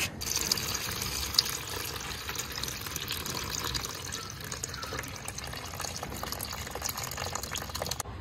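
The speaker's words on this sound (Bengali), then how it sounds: "জাস্ট এবার আমি জলটা ঝরিয়ে নেব।" Water draining off rinsed, soaked flattened rice (chira) into a vessel, a continuous close splashing and trickling rush that holds steady for several seconds with no talk.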